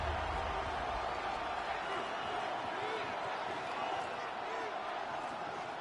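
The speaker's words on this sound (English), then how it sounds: "this crowd trying to force a false start here" Steady roar of a stadium crowd in the Madden 26 football video game, a dense continuous wash of noise at constant loudness with no single voice standing out.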